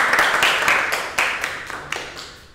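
A karate class claps after a training drill: a short burst of group applause that fades over a couple of seconds, with a few sharper individual claps standing out.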